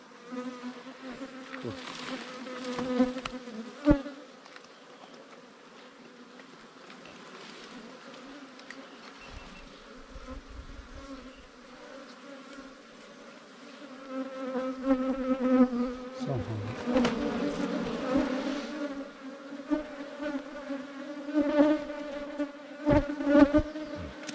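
Bees swarm inside a hollow bamboo trunk, giving a dense, continuous droning buzz up close that grows louder and more agitated in the second half, with occasional knocks.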